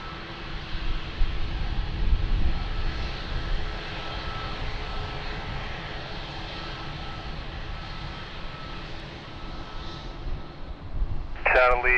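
A Turkish Airlines airliner at Lisbon Airport produces a steady distant engine roar that swells and fades slightly over twelve seconds, with a brief burst of other sound at the end.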